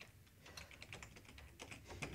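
Quiet, close typing on a computer keyboard gives a steady run of light key clicks, evenly paced and faint.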